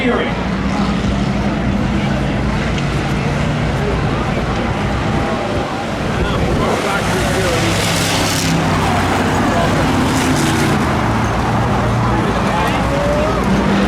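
Stacker race cars lapping a track at a demolition-style event, a dense roar of engines and crowd noise that swells as cars pass, with an announcer commentating throughout.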